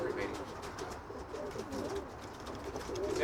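Pigeons coo steadily in a loft, low soft calls repeating under a constant background murmur with no talk.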